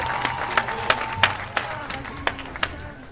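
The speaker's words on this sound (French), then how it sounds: "on peut l'applaudir s'il vous plaît" An audience at a French quiz show applauds in short scattered bursts, individual sharp claps standing out rather than a dense roar.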